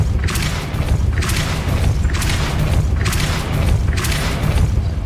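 Hogwarts Legacy Depulso spell blasts boom heavily and repeatedly, about five loud bursts at roughly one-second intervals over a constant low rumble, with no talking.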